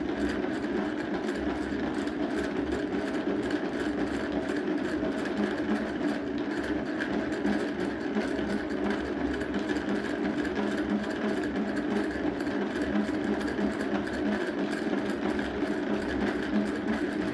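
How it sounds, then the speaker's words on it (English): A yarn ball winder pulling a single of spun angora yarn off a bobbin: a steady, close mechanical whirring hum with a fine rattling texture, running continuously without a break. "So we just use our ball winder to remove the single from the bobbin."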